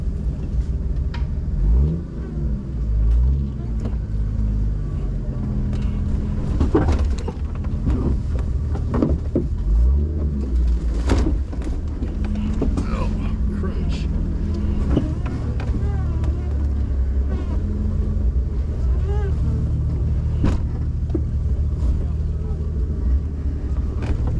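An off-road vehicle crawls over big rocks on a trail at Sicily Island ORV Park, its engine droning loudly and steadily throughout with scattered knocks and thumps from the tires and chassis.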